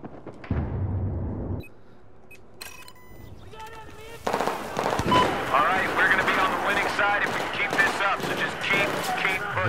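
Gunfire in Battlefield 4 hardcore mode, with bursts of rapid automatic fire and heavy explosive blasts in a dense, chaotic battle mix, while a player talks over it.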